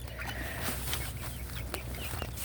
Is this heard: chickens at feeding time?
yes